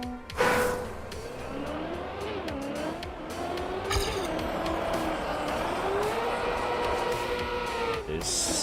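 A race car in Trackmania revs and accelerates with shifting engine pitch, tires squealing and skidding in bursts, loud and continuous, with a voice talking over it.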